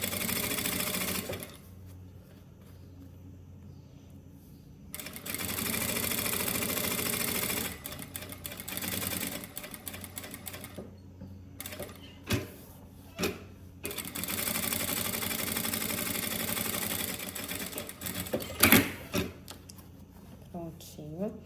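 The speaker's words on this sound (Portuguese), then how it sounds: "Estou dando um pezinho de máquina." A sewing machine stitching a handbag in several bursts of rapid, rhythmic needle clatter, close by, separated by pauses with handling noises, with someone talking between and over the runs.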